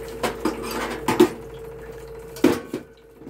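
A small clean metal vessel is picked up and handled, giving several sharp clanks and knocks spaced irregularly across a few seconds, close and fairly loud against a quiet background with faint ringing between hits.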